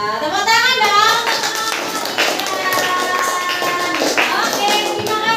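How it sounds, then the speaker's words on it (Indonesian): Clapping in a classroom as a student group finishes its presentation, a patter of hand claps running steadily under lively children's voices and chatter throughout. "Wah, tepuk tangan dong."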